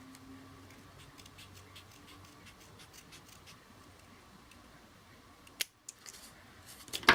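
Scissors trim a paper heart in a quiet room, a few crisp snips near the end, close and sharp against low background hiss.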